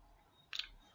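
A single short burst of plastic key taps on a calculator, entering a trigonometry sum, brief and close against a quiet room background.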